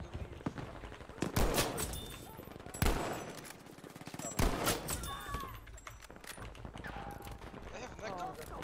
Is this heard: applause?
no